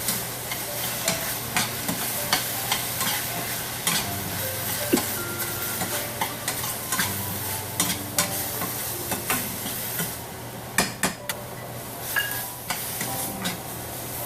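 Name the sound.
sautéing tomato in pan for banana flower kuzhambu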